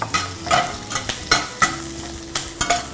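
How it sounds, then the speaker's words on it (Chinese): Chopped scallions sizzle and crackle in hot oil in a wok as they are stir-fried for orange-juice pork ribs, with rapid spatula scrapes and clanks at a brisk rhythm, close and clear, no talk. "我现在先把葱下去"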